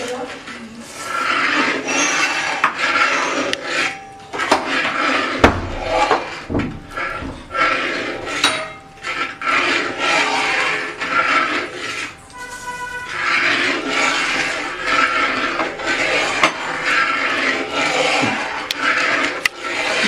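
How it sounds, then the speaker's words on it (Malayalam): A spoon stirs sugar, added bit by bit, into a pot of Ambalappuzha-style rice and milk payasam, giving a long run of repeated scraping and rubbing strokes against the pot with brief pauses between bursts. "കുറച്ച് കുറച്ചായിട്ട് ചേർത്തിട്ട് നന്നായിട്ട് ഇളക്കി കൊടുക്കാം."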